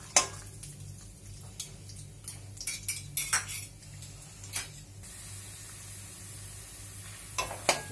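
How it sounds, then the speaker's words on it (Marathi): Peanuts fry in a pan for Diwali poha chivda. A faint sizzle sits under frequent metallic clinks and scrapes of a spoon against the pan, coming in irregular clusters with a calmer stretch in the middle. "आता मी शेंगदाणे फ्राय करून घेते."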